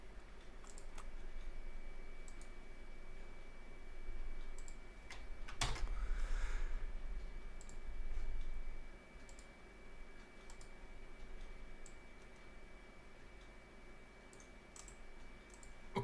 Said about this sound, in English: You can just see me typing.